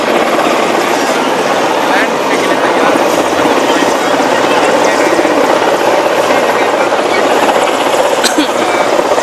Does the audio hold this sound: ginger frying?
no